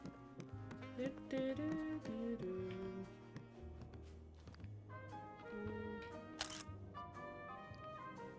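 A camera shutter snaps once as a photo is taken in the video game Disney Dreamlight Valley, a brief click set against steady, fairly loud game music.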